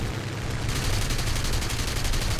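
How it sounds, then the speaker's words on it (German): Rapid machine gun fire from a fighter aircraft in the War Thunder air combat game, a dense continuous stream of shots that stays steady and loud throughout. "Oh, ja, ich werde beschossen."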